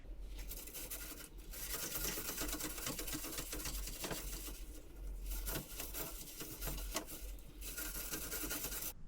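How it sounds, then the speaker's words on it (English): A bowl scrubber rubs and scrapes across freeze dryer shelves in quick repeated strokes, a close, rasping patter that pauses briefly a few times. "Time to bust out the bowl scrubber."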